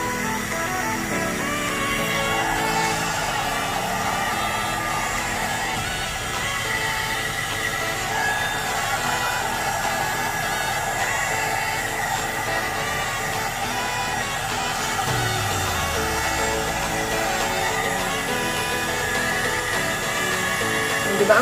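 A 2-in-1 step hair dryer and styler with volumizer runs on its low setting, giving a steady, fairly loud airy whir that holds evenly throughout with no pauses.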